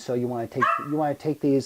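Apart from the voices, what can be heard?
dog barking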